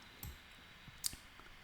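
Two sharp, quiet mouse clicks sound close by, well separated, against a faint background hiss.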